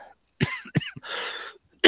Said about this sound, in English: And there I am coughing.